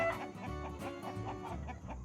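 Chickens on a farm cluck steadily at close range, with repeated overlapping calls and a rooster-like tone, gathered near a feeder, with no talk.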